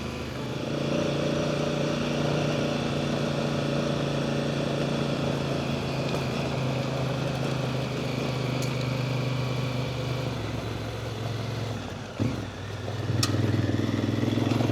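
A fully loaded motorcycle riding along Hatcreek Road, a steady engine drone with wind rumble that holds constant speed throughout, dipping briefly near the end before resuming, with no talking.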